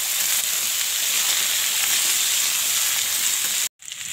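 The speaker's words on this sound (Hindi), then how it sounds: "ये भी आलू भी अच्छे से भून गया और नीचे मसाला भी होंगे" Potato pieces frying with masala in a pan give a loud, steady close sizzle and hiss that runs unbroken, then cuts out sharply for a moment before resuming.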